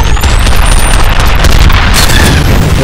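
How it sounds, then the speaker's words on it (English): Laser weapon fire in the shooter game F.E.A.R., a loud, dense, continuous roar of sci-fi blasts with booming low rumble and sweeping high tones throughout, no voices. "Well, I'm shooting my laser."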